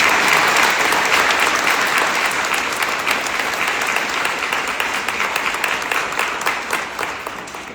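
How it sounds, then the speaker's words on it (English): Audience applause for board members at a victim rights awards event, a dense, sustained crowd clapping that fades gradually over several seconds. "If you could just give them a round of applause."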